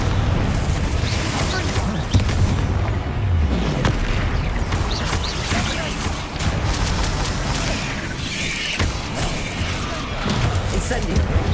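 Bombarda and Confringo spells explode one after another during a Hogwarts Legacy fight, a steady barrage of booming blasts and crackling bursts over a dense, unbroken combat roar, with a voice shouting and talking throughout.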